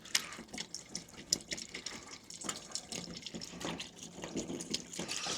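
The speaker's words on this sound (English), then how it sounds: "just going to put these 6 litres responsibly into a waste oil container" Hot, thin used engine oil from a Range Rover L405, about six litres, pours steadily into a waste oil container with a faint, continuous trickling splash and occasional drips.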